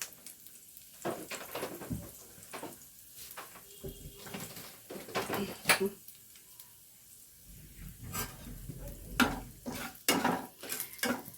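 Two small pieces of cinnamon and two cardamom pods sizzling in hot oil for a potato dish, soft crackle broken by intermittent spoon and pan clatter, fairly quiet and close.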